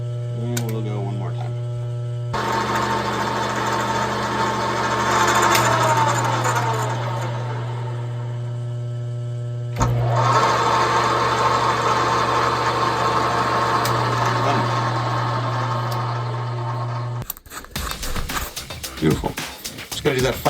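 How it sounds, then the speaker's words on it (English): A drill drives a tap to cut threads into a metal part for a twin turbo Hemi jet boat build, a steady motor whine with a constant hum, shifting in pitch as it starts and stops, ending in clattering noise. "After a whole lot of drilling and tapping"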